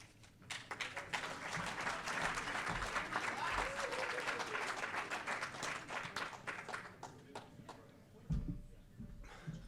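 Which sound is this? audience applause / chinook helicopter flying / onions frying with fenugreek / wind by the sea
audience applause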